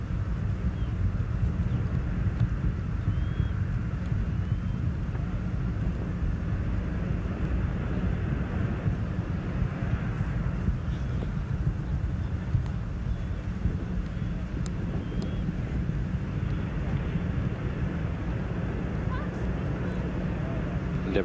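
Space Shuttle Endeavour climbs on its STS-99 launch from Kennedy Space Center with a steady, low, rumbling roar that carries on throughout, mixed with wind noise.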